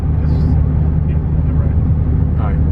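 A Dodge Charger Hellcat engine with catless midpipes drones with a deep, rough exhaust rumble, steady and close throughout, with a voice speaking briefly over it.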